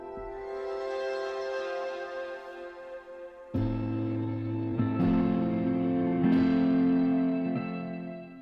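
Cinematic guitar textures from the Opacity pack, drenched in reverb with a sweeping phaser and filter, ring out as sustained layered chords that swell and shift in several new strikes, alone without talk.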